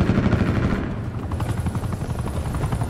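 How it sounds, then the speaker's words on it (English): An attack helicopter in the Call of Duty Black Ops 4 video game beats steadily with rapid rotor thumps, loud and close, with a faint rattle of distant gunfire mixed in. "Attack chopper in my sights."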